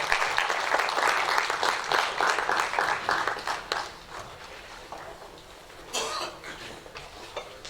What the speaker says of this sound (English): let's give him a round of applause as they make their way